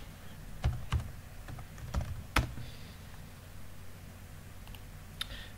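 Typing a sudo command on a computer keyboard in Linux: a handful of quiet, close key clicks in an uneven burst, then a pause and one last faint tap, with no talking.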